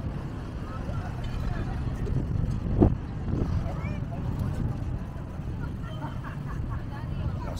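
Strong wind buffets the microphone at a sports complex in Sorsogon, Bicol, Philippines, with a steady low rumble throughout, brief gusty swells and faint background voices.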